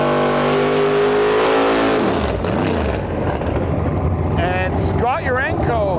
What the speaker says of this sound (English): Russ Flamin pulling up the line here with his twin turbo GTO.